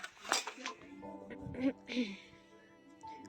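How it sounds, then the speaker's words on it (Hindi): Dishes, pots and utensils clink and clatter as someone washes them with hot water, a few close, sharp knocks and rattles scattered over a quiet background. "बर्तन धोने जा रही है"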